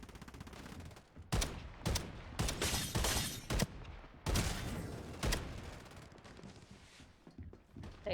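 Bursts of automatic gunfire from the video game Farlight 84 rattle in rapid, dense volleys with brief pauses, loud and close, mixed with game effects and no clear speech.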